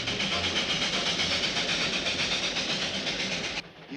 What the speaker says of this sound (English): That beautiful little train.